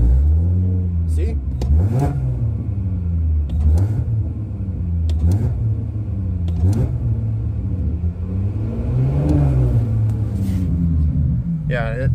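Cadillac STS sedan engine revved repeatedly with a pedal throttle controller fitted, a close, deep rumble swelling and falling in about eight distinct throttle blips with brief pauses between.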